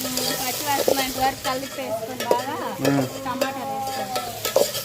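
Ginger garlic paste frying in a pan over a wood fire, stirred with a spatula that scrapes in several close strokes over a steady sizzle, while a voice talks faintly underneath.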